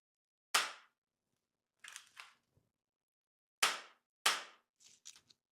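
An airsoft pistol fires 4.5 mm BBs at a motorcycle glove: three sharp, close, snapping shots spaced apart, with fainter clicks and handling noises between them.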